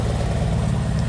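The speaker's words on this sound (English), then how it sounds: "We have to keep the engine running to make sure the lights are bright" Classic Fiat car engine idling with a steady, close, low mechanical throb and even rhythm that never changes, heard alone.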